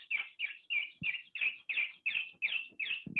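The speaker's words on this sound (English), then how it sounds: "We just hear the bird chirps." Small bird chirps in a quick, evenly spaced series of about ten short, bright notes, fairly faint and distant, with a couple of soft low thumps between them and no talking.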